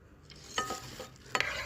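Oil is stirred in a pan heated only by strong sunlight for an omelette, making a few close, brief scraping strokes over faint background noise.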